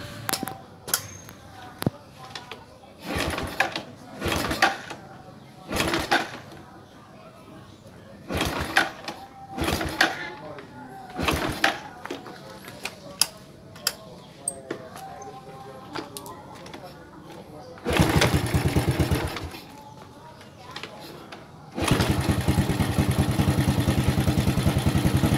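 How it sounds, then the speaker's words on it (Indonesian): A Yamaha Vega ZR motorcycle with an ignition fault is repeatedly cranked with sharp clattering bursts before the engine catches and runs steadily, loud and close. "kita hidupkan motor ya."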